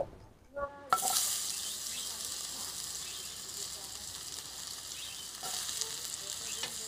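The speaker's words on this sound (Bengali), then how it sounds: "এবারে আমি এই আলুগুলোকে ভেজে নেব।" Potatoes dropped into hot mustard oil in a kadai, a sudden loud burst of sizzling after a brief clatter, then a sustained crackling fry that swells again toward the end, close and without speech.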